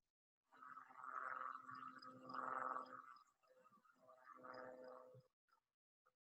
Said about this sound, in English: So here is the call of the crawfish frog.